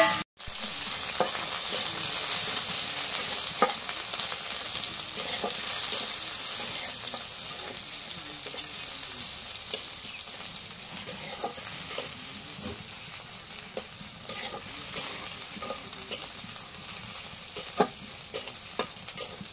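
Dried fish and onion fry in oil, a bright, continuous sizzle close by, with repeated clinks and scrapes of stirring throughout and no talking.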